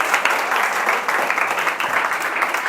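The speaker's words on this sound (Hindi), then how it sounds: "ताली बजा दो, क्लैपिंग कर दो" A classroom crowd applauding steadily, a dense patter of many hands clapping throughout, fairly loud with no talk.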